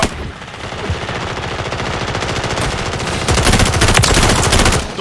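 Rapid automatic gunfire from the first-person shooter Call of Duty: Modern Warfare 3 on the small Shipment map, dense continuous bursts that grow louder and more intense toward the end.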